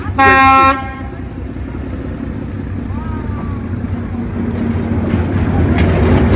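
A short loud horn blast opens, followed by a continuous low rumble of a train rolling past nearby on Train Street, Hanoi.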